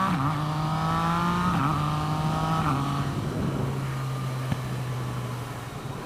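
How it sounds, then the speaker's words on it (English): A Yamaha FZ-09 motorcycle fitted with a quickshifter on a test ride, its engine droning steadily at higher RPM with several quick pitch steps as gears change, fairly close and without talk. "So now we'll test it out a little higher RPM."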